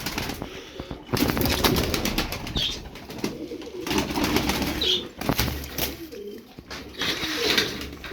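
Pigeons in a coop coo and rustle close by, with soft throaty calls and some wing flutters over a low, continuous background.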